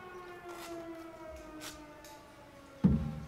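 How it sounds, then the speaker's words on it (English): A volunteer fire department fire truck siren wails about a quarter mile away, a faint, steady, slowly falling tone, ending with a sudden louder thump nearby. "It's a fire truck. It's the local volunteer fire department."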